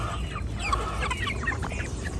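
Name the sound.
Americana hen clucking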